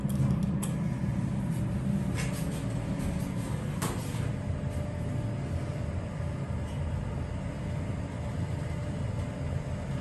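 A Dover Classic hydraulic elevator with a 4,000-pound capacity cab, at the Center for Creative Photography in Tucson, running steadily: a loud, constant low hum and rumble fills the cab, with a few faint creaks and clicks early on.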